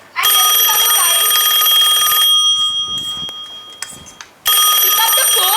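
A telephone rings loudly in two long electronic bursts, separated by a short gap of quieter room sound and faint movement.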